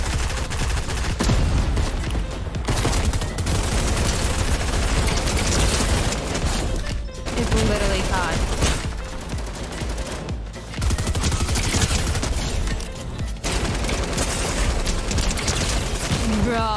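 Light machine gun in Fortnite Creative firing in long, rapid, continuous bursts, loud and dense with brief gaps, while people talk over the gunfire.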